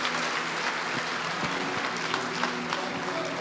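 A church congregation claps during a service, a continuous dense patter of many hands with faint crowd murmur and some voices mixed in beneath.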